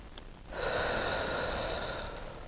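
A deep, audible breath taken during a floor stretching routine: one long, forceful inhale that swells after a brief pause and holds steady for well over a second before easing off, close and clear with no talking.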